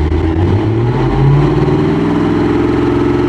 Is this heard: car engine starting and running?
yes